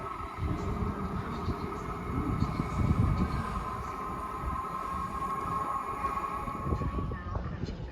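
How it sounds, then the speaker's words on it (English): A Pendolino train rumbles steadily past at Watford Junction, a sustained loud roar with a faint whine persisting throughout before fading near the end. "that's the Pendolino actually"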